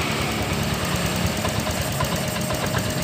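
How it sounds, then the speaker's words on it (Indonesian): A fuel-injected Honda Vario 125 scooter that tends to falter and stall sits at a steady, even idle, a close, constant mechanical hum with a faint knocking texture and no voices. "Untuk di motor injeksi biasanya pertama hidup dia akan tinggi lalu akan stabil seperti itu"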